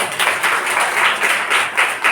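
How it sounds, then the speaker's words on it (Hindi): An audience at a Brahma Kumaris talk breaks into clapping on request, a dense burst of many hands with uneven pulses swelling and fading over about two seconds. "बजाओ ताली एक बार।"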